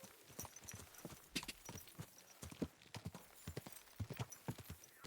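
A horse's hooves clip-clop at a steady walking pace in the medieval role-playing game Kingdom Come: Deliverance II, close and rhythmic with faint ambient background.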